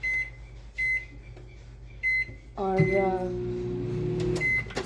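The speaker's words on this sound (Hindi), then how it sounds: "इसे स्पीड डिफ्रोस्ट करूँगी यहाँ पर माइक्रोवेव के अंदर।" A home microwave oven beeps several times as it is set to speed defrost, then its steady running hum starts and continues. A voice briefly speaks nearby.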